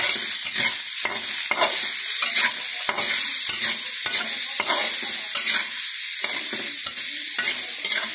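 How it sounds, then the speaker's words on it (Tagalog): Carrots are stirred and sautéed in a pan, a steady sizzle broken by repeated scraping strokes of the spoon at an even, unhurried rhythm, close and fairly loud with no talking. "So, ilang minuto lamang po mga kaguro na nagisa natin itong ating carrots"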